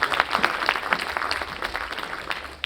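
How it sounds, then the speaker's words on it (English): Audience applause after a speech at a solar energy access conference session, a moderate continuous patter of many hands, fairly distant and even throughout. "Can we have a louder round of applause for Mr. Bhalla, please?"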